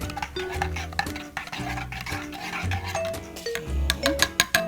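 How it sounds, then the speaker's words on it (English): Spoon stirring hot coffee in a cup, with repeated clinks and scraping against the ceramic at close range, growing into sharper taps toward the end, no voices. "stir it well to blend evenly"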